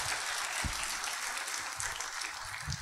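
A church congregation at a sermon applauds, a continuous hiss of distant clapping with a few low thumps mixed in, fairly faint throughout.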